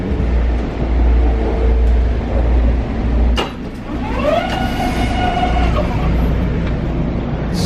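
A New York City subway train rumbles along steadily, with a loud low roar, rattling, and a brief high wheel squeal partway through.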